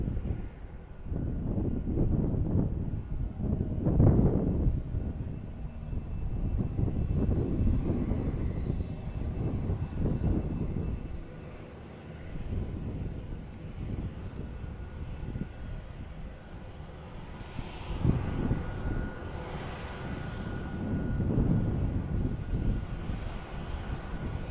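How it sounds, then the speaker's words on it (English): A U.S. Forest Service Beechcraft King Air turboprop at Tucson International Airport, a continuous rumbling engine roar from a moderate distance, swelling and easing over the stretch with some wind noise. "And this is our King Air from, I believe, the U.S. Forest Service."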